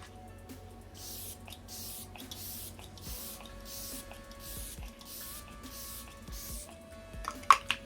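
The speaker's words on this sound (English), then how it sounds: "I am going to go back in with my setting spray" Repeated short bursts of setting spray misted onto a face during a makeup routine, about a dozen quick even pumps in a steady rhythm, close and fairly soft, with a few louder clicks near the end.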